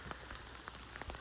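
Afternoon rain falls steadily in mountain country near a traditional Japanese tatara forge, giving a soft continuous patter broken by scattered louder drips and taps.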